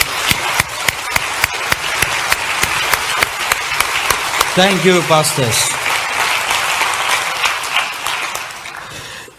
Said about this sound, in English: Let's give them one more clap